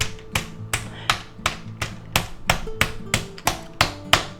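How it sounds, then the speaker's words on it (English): Steady, evenly spaced thuds of a meat tenderizer pounding chicken, about a dozen heavy blows in a row, loud and close with no talking. "a meat tenderizer combination with a flat spot on the back, a flat hammer"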